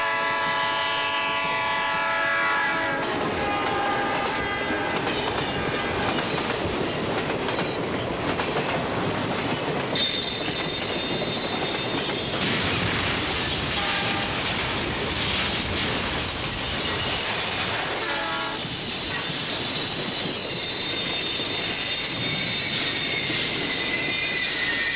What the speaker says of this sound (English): I also did hear the sound of a train, and I did hear him blow his whistle